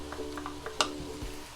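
Green chilies are stirred into hot oil in a kadai, giving a soft sizzle and frying crackle with light scraping of the spoon and a sharper clink near the middle, all fairly quiet and close.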